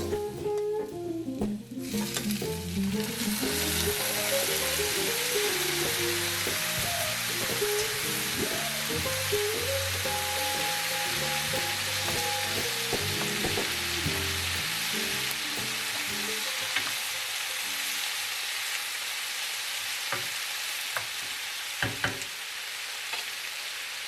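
Bacon and beef browning with carrots and onions in a stew pot give a loud, steady sizzle and frying hiss, with some stirring clatter early on, settling into a quieter crackle toward the end.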